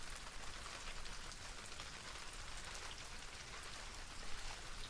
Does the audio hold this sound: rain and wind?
yes